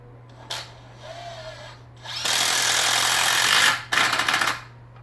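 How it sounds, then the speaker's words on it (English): A power drill drives long screws into deck balusters while building a deck railing, short whirring bursts followed by a long loud run and another burst, close by over a steady low hum. "I'm going to drill them now"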